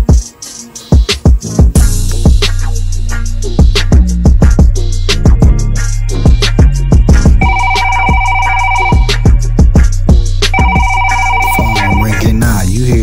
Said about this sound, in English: Phone ringing now. You hear it? You hear it?